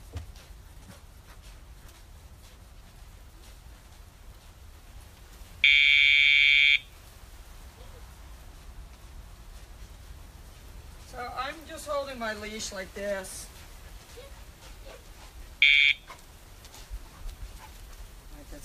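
An electronic dog-training pager sound box gives a loud, steady buzz of about a second, then a shorter buzz later. A person talks quietly outdoors between the buzzes, and there is some rustling and a whistle-like sound.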